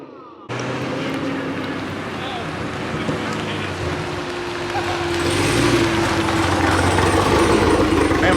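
A hybrid Chevrolet Camaro idles very quietly from inside the car, giving a soft, steady engine hum under road-like ambient noise that swells slightly toward the end, with no voice.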